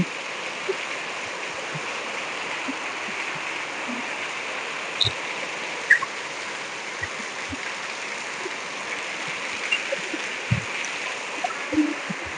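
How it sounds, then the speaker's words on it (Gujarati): Continuous rushing water and heavy rain in a windstorm form a steady hiss, with occasional drips and small splashes breaking through at intervals. "પાણી આવી ગયું છે અવાજ પણ આવતો હોય છે તો કેવો વરસાદ"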